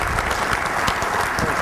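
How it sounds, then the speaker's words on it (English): Dense, steady applause from a large audience at an offensive line coaching clinic, loud and continuous throughout the brief stretch. "Give him a round of applause."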